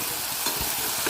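Dal chicken being stirred in a pan, a continuous close sizzle of frying with soft spoon scrapes and a couple of small knocks, short and unbroken by speech.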